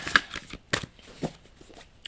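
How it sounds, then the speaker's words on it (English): Quick, soft riffling bursts of a deck of cards being shuffled, a few rapid flutters close by and fairly quiet. "let me shuffle these cards"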